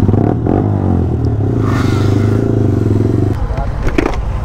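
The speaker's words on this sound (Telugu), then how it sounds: "నా బైక్ అయితే డ్రైవ్ చేస్తున్నాడు" A modified Yamaha R15 V3 sport bike being ridden on the road gives a loud, steady engine drone up close with rattling clatter, easing off slightly near the end.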